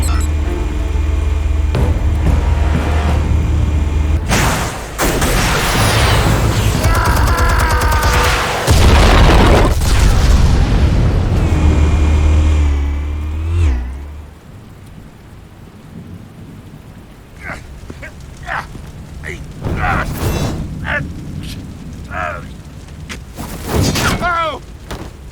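Explosives detonating in Batman: The Telltale Series, a run of loud, heavy booms with rumbling, crackling debris and a long roar that fades into quieter scattered impacts and thuds.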